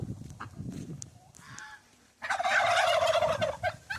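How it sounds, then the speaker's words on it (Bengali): Poultry at a market, including silkie chickens, make loud close gobbling and honking calls that burst out strongly in the second half after quieter scattered clucks and rustling. "সিল্কের মুরগি দেখা পাচ্ছেন, সিল্কের মুরগি নিচে দেখুন স্টার্কি মুরগি আছে নিচে"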